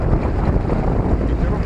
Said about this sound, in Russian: Водичка шелестит за бортом.